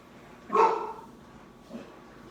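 A single dog gives one sharp, close bark followed by a softer, shorter yip a second later, in a quiet indoor room.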